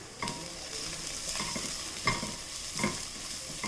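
Coriander, garam masala and Kashmiri chilli powder stirred in a frying pan, a steady close sizzle broken by a few distinct scraping strokes of the spoon, no voices.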